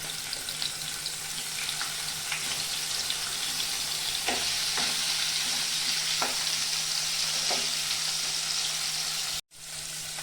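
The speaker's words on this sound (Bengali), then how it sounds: "পনিরটা ভাজার জন্য একটু সাদা তেল দিয়ে দিব" Paneer sizzles steadily in hot white oil in a kadai for kadai paneer, a continuous close frying hiss with faint scattered crackles throughout and no talk, briefly cutting out near the end.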